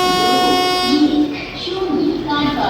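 An LHB-coach Tirupati–Kakinada Express 17249 pulls out of Tirupati with a loud sustained horn blast, then a steady rolling rumble of the moving train.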